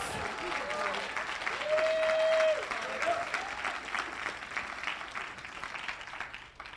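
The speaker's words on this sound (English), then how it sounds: "You guys need to clap louder for yourselves." Sustained applause from a large audience, clapping steadily with a brief rise in the middle before slowly fading.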